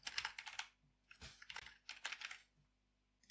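Quick bursts of typing on a computer keyboard, close and quiet, several short clusters of key clicks separated by brief pauses, with no speech.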